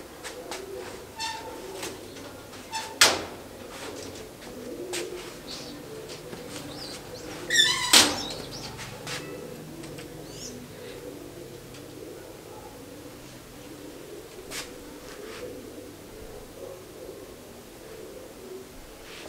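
Soft pigeon coos repeat through a long outdoor stretch, with a couple of louder sharp knocks and faint distant voices in the background.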